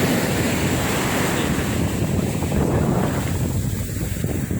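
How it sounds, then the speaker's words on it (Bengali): Sea waves break and wash continuously on an open ocean shore, a steady loud surf roar with heavy wind buffeting the microphone throughout and no talking. "পানির ঢেউ"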